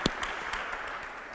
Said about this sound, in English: Give them a round of applause to welcome them to the discussion